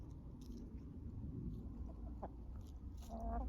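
Chickens cluck softly while eating fermented feed amid a low outdoor rumble, with a few short clucks and calls near the end, fairly faint overall.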